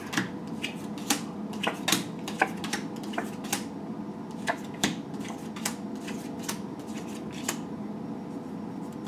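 Oracle cards being shuffled by hand, a run of crisp riffling and snapping bursts at an even pace, close and fairly quiet over a low steady room hum, with no talking.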